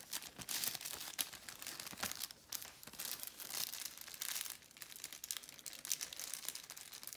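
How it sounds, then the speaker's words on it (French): A crinkly packet rustles and crackles continuously up close as it is handled and torn open, with irregular sharp crunches. "On ouvre le sachet."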